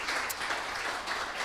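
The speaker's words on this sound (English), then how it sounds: "Round of applause for that." Audience applause at an interview event, steady clapping from a crowd heard close and fairly quiet, filling the short moment without talk.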